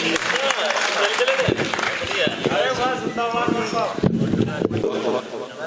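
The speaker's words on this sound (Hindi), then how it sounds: "जोरदार तालियां डॉक्टर केपी सिंह के लिए" At a Hindi kavi sammelan poetry gathering, the audience gives loud applause for a guest poet taking the stage, dense clapping mixed with voices and shouts throughout.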